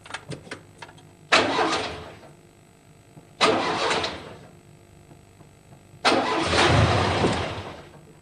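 An old car engine turns over three times in a row: each try is a loud burst of cranking that fades off, with quiet gaps between attempts, close up and with no voices.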